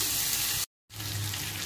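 Chicken curry with ground ginger and garlic being stirred in a pan over a gas flame, giving a steady close hiss and scrape of frying with a brief full dropout partway through.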